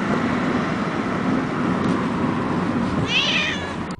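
A single short meow from a house cat near the end rises out of a steady traffic-like rumble that fills the rest of the stretch.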